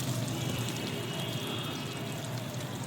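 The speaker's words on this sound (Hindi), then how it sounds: "अब इस पानी को हम छान लेते हैं, एक दूसरे बाल्टी में हम इसको छान लेते हैं।" Water is strained and poured from one bucket into another, making a steady close pouring and trickling splash with no pauses.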